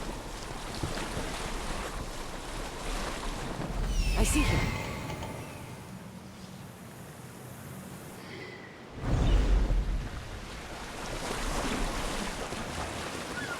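A boat moves over ocean waves in Assassin's Creed Odyssey, with steady wash and wind, swelling water surges around a few seconds in and again near the middle, while a voice speaks briefly.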